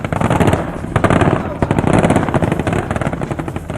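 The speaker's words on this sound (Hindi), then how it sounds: "टैंकों और बख्तरबंद गाड़ियों से ताबड़तोड़ गोलियां बरसाते नजर आए।" Rapid bursts of machine gun fire from tanks and armored vehicles during a military exercise rattle loudly and continuously, with heavy engine rumble and talk mixed in underneath.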